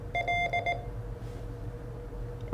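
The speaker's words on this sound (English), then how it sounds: "that's sending out the same thing just through Morse code" Morse code beeps from a ham radio, a short run of steady electronic tones in quick dits and dahs over a low background hum, then fading to quiet.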